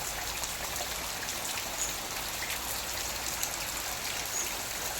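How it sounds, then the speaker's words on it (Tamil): Heavy rain pouring steadily outdoors, an even, dense hiss of falling drops and running water that stays constant throughout, fairly quiet and with no voices. "பார்த்தீங்கன்னா ரொம்ப மழை பெஞ்சிட்டே இருக்குங்க."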